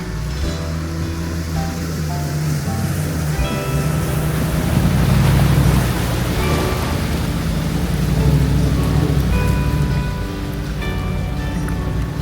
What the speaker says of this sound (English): Starting to rain on us a little bit. Just sprinkling right now, but the sky is pretty gray.